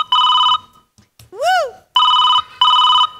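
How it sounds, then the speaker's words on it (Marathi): A telephone rings with an incoming call in a comedy skit, giving loud repeated two-tone electronic ring bursts with a short warbling chirp between them, close and clear with no talking over it. "मामाजीचा फोन आला."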